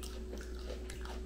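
A crunchy, bumpy pickle is bitten into with one close crisp crunch and faint chewing, alone and without talk.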